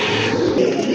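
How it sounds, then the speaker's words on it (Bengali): Pigeons for sale, among them a Giasulli pigeon, coo in low murmuring throaty tones, close and steady through a brief moment, with no talk. "মাশাল্লাহ, আরেক জোড়া কবুতর"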